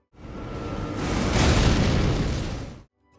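A cannon blast from a goblin enemy in the video game Elden Ring Shadow of the Erdtree: a single loud booming explosion swelling and fading over about three seconds, heard alone.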